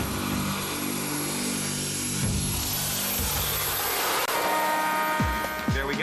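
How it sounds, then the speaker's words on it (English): A jet-powered trike at a drag-race start line spools up with a loud, roaring, rising engine whine that races away, under an announcer's commentary. "Start your engine, keep your eyes on the Christmas tree."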